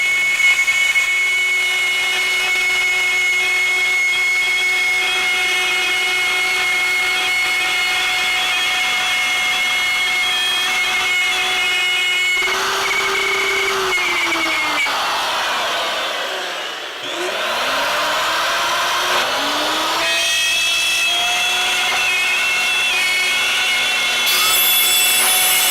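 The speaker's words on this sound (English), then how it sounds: "I have a 1/4 inch spiral cutting bit in my router, and I have it set to cut 5/16 of an inch deep" A router fitted with a quarter-inch spiral bit cuts a 5/16-inch-deep groove in wood, a continuous high-pitched whine and rushing hum that dips briefly in pitch midway as the cut loads, then carries on steadily.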